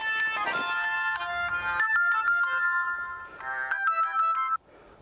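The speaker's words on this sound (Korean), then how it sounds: "그 순간 전화벨이 울립니다." A telephone rings with a bright electronic ringtone melody, loud and close, playing alone for about five seconds before cutting off abruptly.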